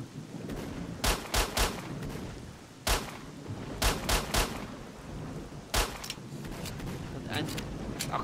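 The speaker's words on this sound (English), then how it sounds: "at least a few of those hits, these shots must have hit him" Rapid bursts of gunfire from S.T.A.L.K.E.R.: Shadow of Chernobyl, clustered shots cracking loudly in quick volleys about every second or two over a steady rushing ambient bed.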